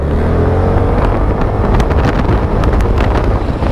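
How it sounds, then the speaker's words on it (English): A WK MXI 125 motorcycle engine accelerating on the road, a loud droning run buffeted by heavy wind noise, with no talk. "we're going to listen to the sound of the engine"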